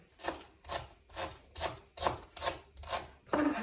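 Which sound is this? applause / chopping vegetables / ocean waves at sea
chopping vegetables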